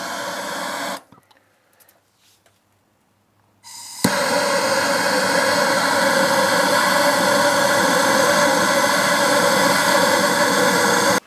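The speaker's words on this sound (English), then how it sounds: "you can use a lighter or a propane torch or whatever and get this block lit" A propane torch ignites with a sudden loud roaring hiss, lighting a charcoal block in a grill hopper. A few seconds of near silence come first, then a steady, close, unbroken rush of flame.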